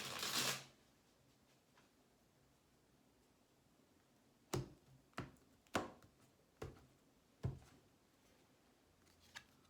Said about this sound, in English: I want to give this deck one more shuffle.